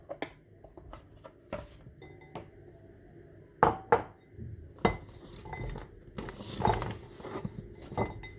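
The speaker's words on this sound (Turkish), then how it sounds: "salatalık dilimlerini ayrı bir kaba alalım" Cucumber slices being moved into a separate bowl, quiet scattered clinks and taps of utensils against dishes with a few sharper knocks, close and sparse, no speech.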